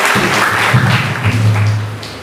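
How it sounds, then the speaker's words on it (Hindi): An audience at a Shri Ram Katha religious gathering claps in dense, steady applause, loud and sustained over a low droning tone underneath. "इनके लिए भी जोरदार तालियां।"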